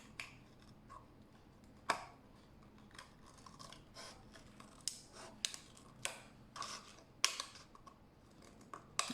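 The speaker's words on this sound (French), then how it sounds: "Et on va couper, cette fois avec des ciseaux" Scissors snip a round piece of faux suede in short, irregular crisp cuts, close and fairly quiet, with small rustles between the snips and nobody speaking.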